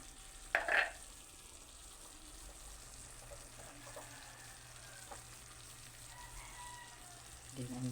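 Corned beef fries with garlic and onion for spaghetti, giving a low steady sizzle broken by a brief loud clatter near the start and another at the end.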